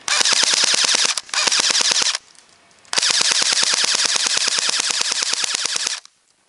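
Galaxy Mk5 PDW airsoft gun firing full-auto, loud rapid bursts of sharp clicking shots heard up close, with a brief pause between bursts and no talking.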